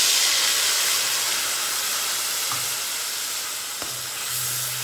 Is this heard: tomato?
yes